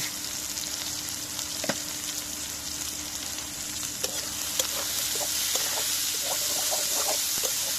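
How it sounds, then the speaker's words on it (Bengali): Onions fry and get stirred in a pan with salt added, a steady broadband sizzle running throughout, joined by scattered scraping and clinking of a utensil against the pan that grows busier toward the end. "লবণ দিয়ে দিব এখন পেঁয়াজটা বেঁধে নিব"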